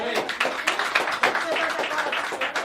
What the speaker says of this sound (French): Une bonne main d'applaudissement.